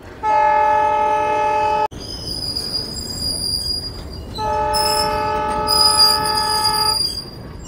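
A ballast train on a railway line near Rajuri, Beed, sounds a loud sustained horn, then blasts again while the wagons roll past with squealing wheels, close by.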